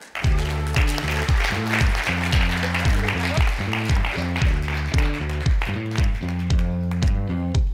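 An audience claps to welcome a judge on stage at a startup demo day in Daejeon, the steady applause blended under loud, rhythmic walk-on music.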